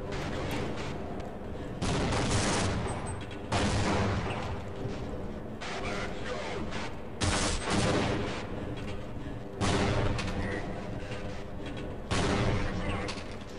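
Half-Life firefight with heavy gunfire and grenade blasts, repeated loud bursts separated by brief lulls, dense and close throughout.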